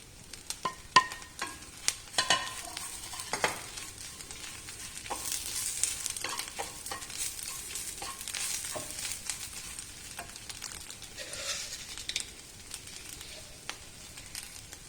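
Roasted changalam paranda being stirred in a hot pan for chammanthi, soft scraping and tapping of a spoon with light sizzling, faint and intermittent with a few sharper knocks.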